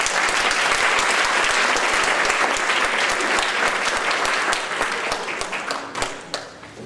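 Audience at an AFT opening presentation breaking into warm, sustained applause for an incoming speaker, dense clapping that thins out into scattered claps near the end.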